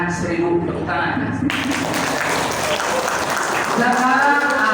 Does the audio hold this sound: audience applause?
yes